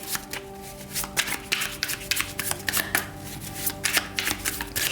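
Tarot cards shuffled and handled up close, a run of crisp riffling flicks and soft slaps in quick irregular bursts over a low steady hum.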